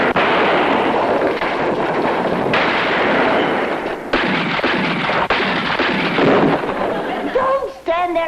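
Gunfire in a 1960s TV western comes through a dense, loud scene of shots and blasts, with sharp cracks breaking up continuous rumbling noise.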